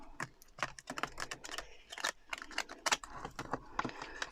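Large tarot cards are shuffled by hand, giving quick, irregular papery slaps and riffles close up with no voices.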